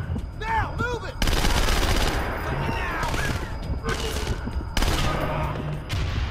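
Rapid, loud bursts of submachine gun fire in Splinter Cell: Conviction roll almost continuously, broken by brief pauses, with a player's voice talking over the action.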